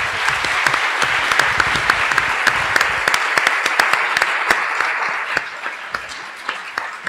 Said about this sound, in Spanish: les pido a ustedes que les demos un gran aplauso a todo el staff.